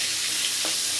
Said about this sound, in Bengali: পেঁয়াজটা আর আলুটা আমি একটু ভাজা নিলাম।